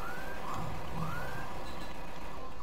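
Alarm blaring in The Terminator: Laser Lane video game, a wavering siren tone sweeping up and down at steady loudness over dense game background noise.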